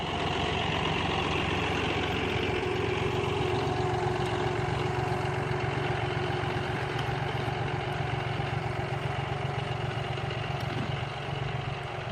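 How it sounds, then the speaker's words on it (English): A heavy tractor engine runs steadily while potatoes are planted in slightly moist ground, giving a continuous, loud, low idling rumble that holds even throughout with no talk over it. "And we're using our heavy tractor, which we probably should have our smaller one"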